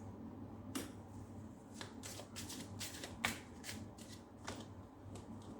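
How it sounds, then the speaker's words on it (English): Tarot cards are shuffled by hand at close range, giving a string of quick riffling and slapping bursts with small taps between them over a quiet background. "Right now I'm just going to shuffle and put down your cards."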